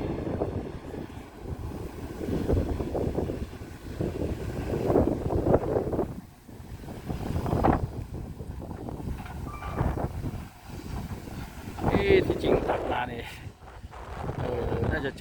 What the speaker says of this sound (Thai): ลมแรงก็ลมแรงไปหน่อย